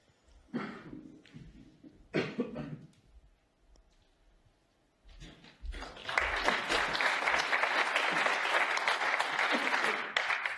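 A snooker crowd at the World Snooker Championship breaks into steady applause after some quiet commentary and a few isolated sounds, with the clapping building and holding loud and dense to the end.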